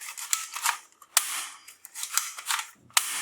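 Toy guns from a realistic military-style set, including MP5 and AK-47 replicas, fire a run of sharp cap-gun pops, several quick snaps spaced irregularly, close and crisp with no talk.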